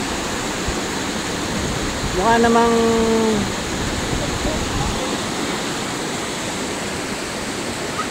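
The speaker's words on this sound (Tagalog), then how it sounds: "So, medyo mas okay yung river dito. White water siya." Steady, broadband roar of a rushing white-water river near Labi Bridge, Bongabon, Nueva Ecija, fills the whole clip, with a brief voice speaking over it partway through.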